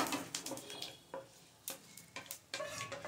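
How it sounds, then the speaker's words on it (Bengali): A curry-leaf and asafoetida tempering is poured into kadhi, followed by soft, close stirring and scraping over a faint bubbling sizzle. "আমি ফোড়নটা কারির মধ্যে ঢেলে দিয়েছি।"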